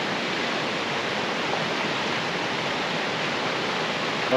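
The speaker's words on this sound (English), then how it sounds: "Obviously it's nice and wet, so the brook's full and it's literally a babbling brook." Full babbling brook near ruined mill, a steady broad rushing of water, constant and fairly loud with no voices over it.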